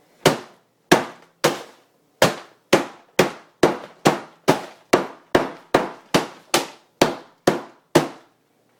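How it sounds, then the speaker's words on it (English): A fresh coconut is struck again and again to crack it open, about sixteen sharp, loud knocks in a steady rhythm roughly every half second, each a hard clack with a short ringing decay, close and without talk. "I would just bang it up a little more to break it"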